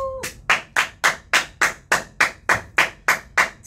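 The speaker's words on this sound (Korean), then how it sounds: "다들 박수 쳐주세요." Hands clap in an even, brisk rhythm, about a dozen close, sharp claps in a row, following a brief tone at the start.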